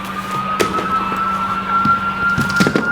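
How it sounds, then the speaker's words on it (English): A steady high police siren tone holds throughout over road noise and traffic rumble, with occasional thumps and knocks. "Flipped the siren, hit the gas"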